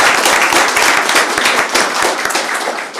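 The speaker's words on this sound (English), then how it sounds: "let's give a round of applause to my beautiful wife" A crowd applauds the speaker's wife at a city commission study session, dense, loud clapping with crisp individual claps standing out, sustained throughout and easing slightly at the end.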